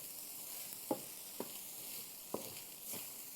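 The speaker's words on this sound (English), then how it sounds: "Get this guy stirred through one more time." Gluten-free taco filling sizzles steadily in a pan while a spoon stirs it through, with a few soft scrapes and knocks against the pan close up, no talking.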